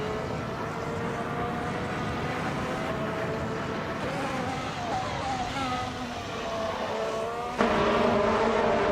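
Race cars speed along in a video game, a steady blend of engine drones rising and falling in pitch, with a louder surge near the end.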